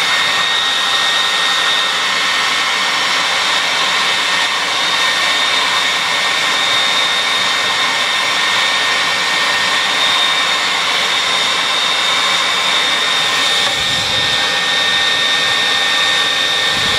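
Heat gun or hair dryer blowing hot air onto a skateboard sticker, a loud, continuous close-up whoosh with a steady whine that holds almost unchanged throughout.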